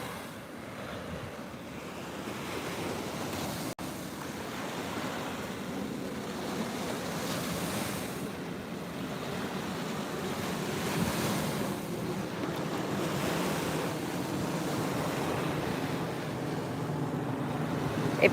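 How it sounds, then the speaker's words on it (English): Surf rolls onto a beach in a continuous wash of breaking waves, with some wind rumble on the microphone; steady and moderately loud, no voices. "A beautiful beach."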